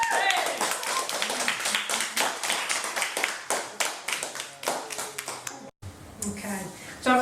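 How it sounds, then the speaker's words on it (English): A small audience claps at a Halloween performance night at Bank Street after a performer's set, sharp distinct hand claps in quick irregular rhythm, loud and close, briefly breaking off near the end before a voice starts speaking. "a hand of applause, please"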